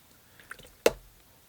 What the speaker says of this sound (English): And do a couple more splashes here.